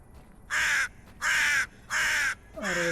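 A crow in a horror video game caws three times in a slow, even rhythm, loud and close, with a fourth caw starting at the end, over quiet ambience.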